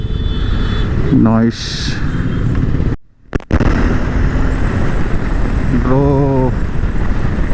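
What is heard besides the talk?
KTM 390 motorcycle riding with throttle on open road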